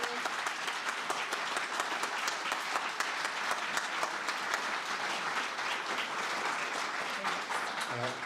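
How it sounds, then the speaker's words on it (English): A lecture hall audience gives sustained, even applause after an evening lecture, a dense steady wash of many hands clapping throughout. "Would you join me in another round of applause?"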